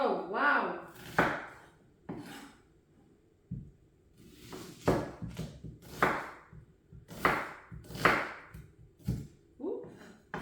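A knife chops onions on a board in sharp, irregular strikes, several clustered cuts with pauses between, close by, while someone talks at times.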